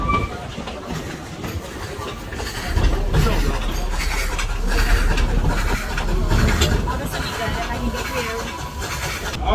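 A small Dollywood amusement park train rumbles and clatters steadily along its tracks, with a person talking over the running noise.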